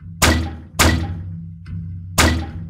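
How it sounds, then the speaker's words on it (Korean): Heavy steel office doors slam shut one after another: three loud, booming thuds with a lighter knock between them, each dying away quickly in a close, dry space. "굉음을 내며 사무실의 철제문이 저절로 닫혔다"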